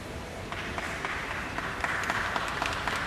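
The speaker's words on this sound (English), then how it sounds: "Why are you clapping, Vinod?" A church congregation claps, a faint, steady wash of many hands clapping somewhat distant throughout, with no talk over it.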